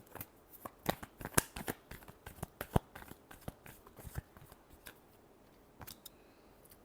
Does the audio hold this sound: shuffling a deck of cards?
yes